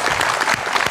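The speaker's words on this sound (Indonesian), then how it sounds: "Kita beri tepuk tangan untuk Ibu Lis" An audience applauds an elderly woman, dense clapping of a crowd heard briefly and fairly loud without a break.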